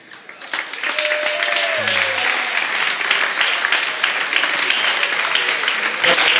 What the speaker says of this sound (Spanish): Un aplauso para estos chicos, todos los años ahí, curándoselo.